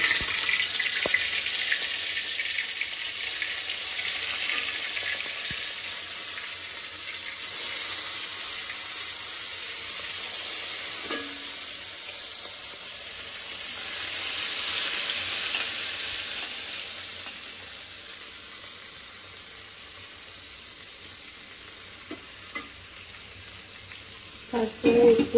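Hilsa fish fry in a wok with black cumin, giving a steady, fairly quiet sizzle that swells and fades over the stretch, with a few clinks of utensils near the end.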